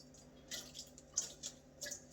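Excess water drains from rinsed long grain rice, heard as faint, irregular drips and small splashes over a quiet background.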